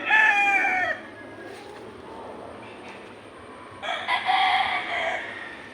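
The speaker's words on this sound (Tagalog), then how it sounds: "Ito yung manok ko guys." A rooster crows loudly up close, then hens cluck and squawk in a short burst over a low, steady background hum.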